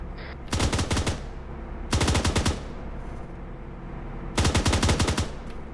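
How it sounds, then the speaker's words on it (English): Gunfire from a sidearm in the Arma 3 video game: three loud, rapid bursts of shots separated by short pauses, heard over a low steady background hum, with no talking. "Looks like it's a crewman firing his sidearm."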